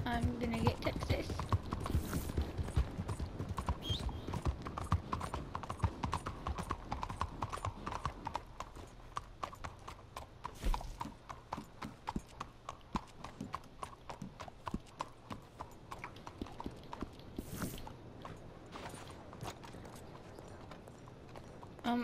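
A horse in Red Dead Redemption 2 gallops with continuous rapid clip-clop hoofbeats throughout, loud and close, with faint game sounds and occasional talk underneath.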